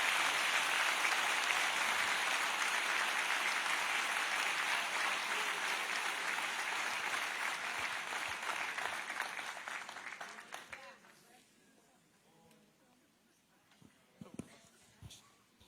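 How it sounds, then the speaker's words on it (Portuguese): Church audience applauding during a missions symposium service: a dense, steady wash of clapping for about ten seconds, then fading away to near quiet with a few scattered claps and small sounds. "Vamos aplaudir a Deus e seja louvado."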